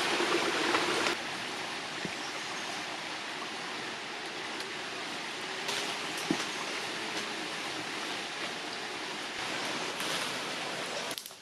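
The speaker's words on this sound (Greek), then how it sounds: "Τα νερά του ρέματος από τον καταράκτη καταλήγουν τη θαλάσσια περιοχή των Καλουδιανών μέσω του ποταμού Τυφλού." A stream fed by a waterfall in Crete, near Makronas and flowing toward the river Tyflos, rushes in a steady, dense broadband wash with a few faint knocks, continuous and close throughout.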